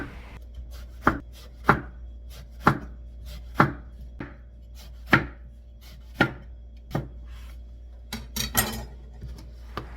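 A knife cuts thick slices of eggplant on a cutting board, about a dozen distinct, crisp chops at an uneven pace against a quiet background.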